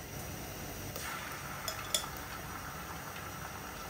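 A spoon stirs onion with ginger-garlic paste in a pan for mutton curry, making faint soft scraping and a gentle sizzle, with a couple of light metallic clinks against the pan.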